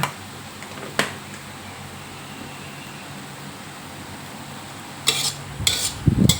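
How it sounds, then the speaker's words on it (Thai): Glass noodles with cabbage and egg stir-fried in a pan: a low frying hiss with sharp spatula clanks at the start, then a burst of scraping and tossing near the end. "เราก็ผัดให้เข้ากันเลย"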